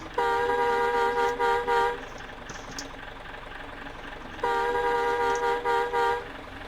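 Second horn of a Hino RK bus in Bus Simulator Indonesia: two long, loud, sustained honks separated by a pause of quieter idling engine noise, with no speech.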